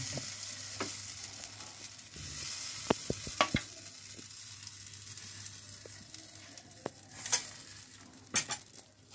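Potato slices for aloo karaisuti frying in oil in a pan, a steady close sizzle running throughout with scattered sharp clicks and taps of a utensil against the pan.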